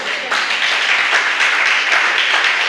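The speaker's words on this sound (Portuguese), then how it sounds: "Dê um aplauso ao Senhor." A church congregation claps together in loud, dense applause that runs steadily for the whole moment, close and energetic, with voices mixed in.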